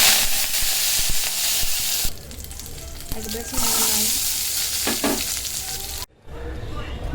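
Ingredients for a Tamil drumstick gravy sautéing in a hot pan, with a loud continuous sizzle and frying hiss, broken by stirring scrapes and brief pauses, close up.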